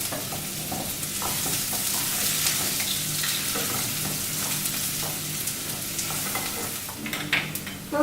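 Tomatoes sauteing in a hot pan for homemade tomato curry, a steady dense sizzle and crackle with occasional stirring scrapes, close and continuous throughout.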